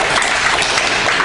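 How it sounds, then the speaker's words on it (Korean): A church congregation bursts into applause, a brief, loud, dense wash of clapping heard close with no talking over it. "그리고 박수 한번 드릴까요?"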